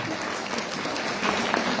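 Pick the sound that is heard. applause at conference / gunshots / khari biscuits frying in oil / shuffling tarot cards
applause at conference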